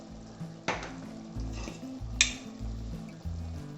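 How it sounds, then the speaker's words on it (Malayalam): Spices being stirred into tomato curry frying in a pan give a soft, steady sizzle, with scraping strokes and a light clink of a utensil against the pan. "ഇത് നല്ലപോലെ ഒന്ന് ഇളക്കി കൊടുക്കുക."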